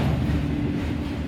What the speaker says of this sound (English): As of now, it looks like it's a unit train